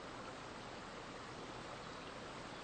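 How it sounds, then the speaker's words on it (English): Steady, even rush of flowing water from a small forest brook, soft and continuous with no voices or other sounds. "the echoing of the water becomes louder. You continue walking and finally come upon a small brook"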